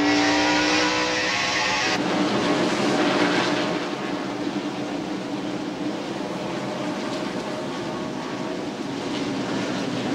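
NASCAR stock cars, 43 of them, race around the half-mile Bristol Motor Speedway in 1999. Their engines make a loud continuous roar, higher-pitched at first, then shifting into a dense, rumbling drone of the pack.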